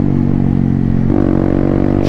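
Engine of a Venturi 500 adventure motorcycle runs loud and close, a rough throbbing idle that rises sharply into a rev about halfway through and keeps pulsing.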